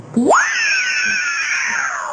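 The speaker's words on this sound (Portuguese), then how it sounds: "É o grito da Pink, da Pantera!" A high, sustained scream from the animated character Pink in the film Kpop Demon Hunters rises sharply at the start and then holds a long, piercing, slightly wavering tone until the end.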